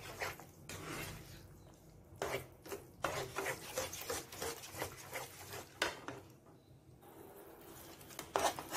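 Thick halwa batter is stirred in a kadai, with irregular scraping and rubbing strokes of a spoon against the pan, quiet and close, coming in uneven bursts with brief pauses.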